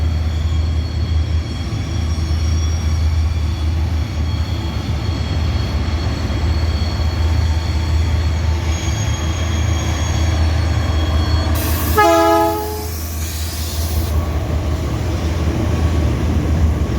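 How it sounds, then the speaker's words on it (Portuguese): A train passes close by in a long, loud, steady rumble of wheels on rails, with a sharp squeal of metal and a brief tonal horn-like sweep near the end. "Eu vou ficar calado para deixar só o trem passar. Só para vocês verem o trem."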